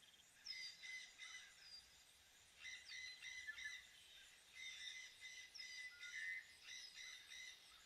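Parrot squawking in repeated short bursts of harsh, chattering calls, fairly faint and distant, with brief gaps between phrases and no speech.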